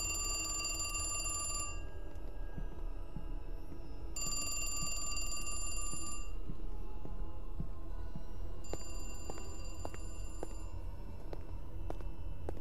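Old-style telephone bell ringing in a horror video game, bursts of bright ringing separated by pauses over a low rumbling ambience, with no talking.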